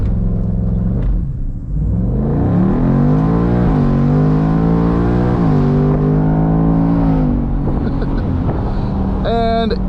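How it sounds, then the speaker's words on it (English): A 2024 Mustang GT convertible with a 500-horsepower V8 launches for a 0-60 run, the engine roaring close and loud as it climbs through the revs, dips briefly on a shift and rises again. "Coming up here, we can do a quick little launch to test our 0 to 60 times."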